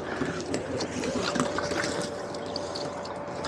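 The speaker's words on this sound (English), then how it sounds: "We'll let this electric one" A steady whirring hum with faint watery trickling, constant throughout, as a small electric pump pumps water out of a boat after a hurricane.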